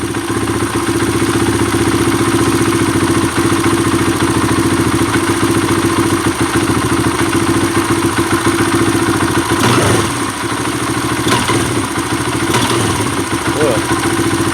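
A Kawasaki KLX140 dirt bike running lean idles steadily up close, a continuous mid-pitched engine drone with clattery pulses and a few brief rises around the middle, no talk over it.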